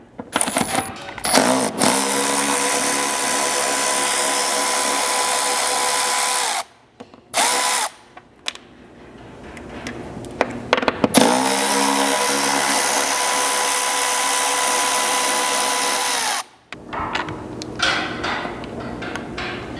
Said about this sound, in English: you'll grab a 10mm socket and come back to the mid-mount location where you can remove 2 fasteners holding down this center mounting bracket